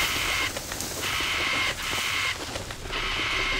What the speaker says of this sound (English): Those are crows or ravens.